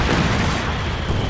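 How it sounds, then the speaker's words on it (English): Katyusha rocket artillery explosions from the Company of Heroes 2 battle game give a short burst of dense, rumbling booms with no gaps between them. "Looks like Katusha's is going to start firing in the center here"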